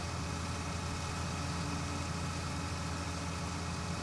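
A farm vehicle engine in Farming Simulator 19 labours uphill in a steady, loud, low hum with no noticeable rise or break, and no one speaks.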